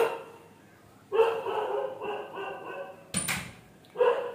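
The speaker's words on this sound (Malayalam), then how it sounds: "അവിടെ ആരെങ്കിലും കണ്ടിട്ടുണ്ട്, അപ്പൊ അവൻ കുരച്ചിട്ട് പോവാ." A dog barks in a few separate bursts at a moderate distance outdoors, set off when someone is seen nearby. The barks come in short clusters with pauses between them.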